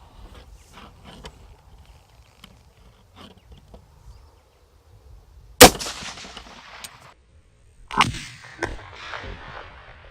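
OAF rifle gunshots in a video game: two sharp, loud blasts several seconds apart, each trailing off in a noisy rumble, over a quiet background with faint clicks and low hum.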